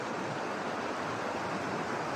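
The Kali Gandaki river flows near its confluence with the Seti, a steady broadband rush of moving water heard alone at even, moderate loudness.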